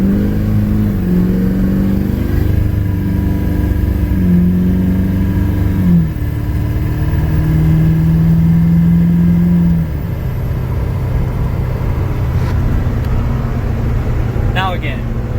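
A Duramax diesel pickup truck fitted with an Airdog, nearly 275,000 miles on it, drives slowly with a loud, steady engine drone whose pitch steps up and down through gear changes; a brief squeak sounds near the end.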